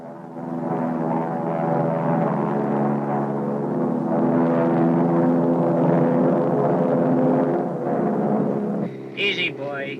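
A Cessna T-41 training airplane in flight, its propeller engine droning steadily and loudly from inside the cockpit for most of the stretch, with a brief burst of other noise near the end.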